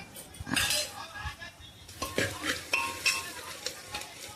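A spoon stirs coriander powder into a green pea curry in a metal pot, with repeated scraping and clinking strokes and a soft sizzle underneath, close and moderately loud.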